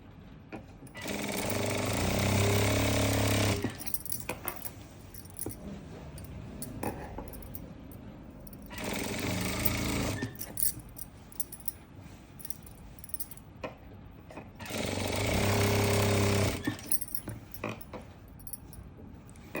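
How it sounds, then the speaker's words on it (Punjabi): A sewing machine runs in three long bursts of rapid, steady stitching on an Afghani salwar, with quieter handling sounds and fabric shuffling in the pauses between runs. No one speaks. "ਇੱਥੋਂ ਆਪਾਂ ਸਲਾਈ ਲਗਾਣੀ ਸ਼ੁਰੂ ਕਰਨੀ ਹੈ"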